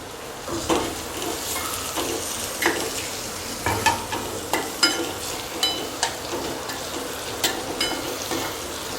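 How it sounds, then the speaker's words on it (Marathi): Onion and coriander seeds sauté in a pan for a green potato dish, a constant close sizzle punctuated by regular scraping stirs and light clinks of the spoon. "कांदा छान परतवून घ्यायचा आहे"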